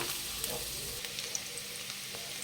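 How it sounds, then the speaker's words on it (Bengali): Chopped onions fry in a pan, a steady soft sizzle with faint crackles throughout, fairly quiet and continuous with no voices. "পেঁয়াজ কুচি ভাজা ভাজা হয়ে গেছে"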